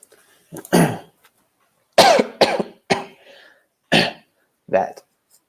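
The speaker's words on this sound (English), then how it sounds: "that is a cough" A series of separate, sharp coughs, about five bursts spaced roughly a second apart, close and loud with quiet gaps between.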